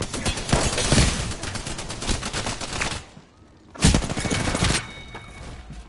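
Rapid bursts of shotgun fire in the battle-royale shooter Apex Legends, loud and dense for three seconds, a brief lull, then another heavy volley of blasts.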